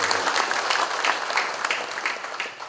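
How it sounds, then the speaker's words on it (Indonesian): A room of provincial government staff at a morning briefing with the Jakarta governor breaks into applause for everyone present, a full, dense burst of clapping that tapers off near the end. "Kita beri tepuk tangan untuk semua yang hadir."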